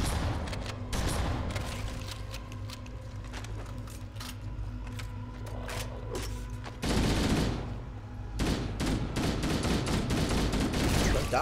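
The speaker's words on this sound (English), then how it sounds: "It's an assault rifle." Assault rifle fire in the video game Halo CE rattles in rapid, sustained automatic bursts over a low droning game hum, growing louder and denser in the second half.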